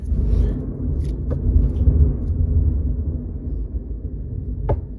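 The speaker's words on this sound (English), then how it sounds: "I don't know if y'all hear that thunder" Low, rolling thunder rumbles continuously in the distance, a deep grumble swelling and fading without pause, with a couple of faint sharp clicks.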